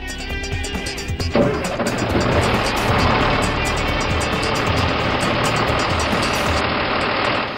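A truck engine in a cartoon cranks and catches, then settles into a loud, steady, rough running roar that continues to the end; close and dense, with no talk.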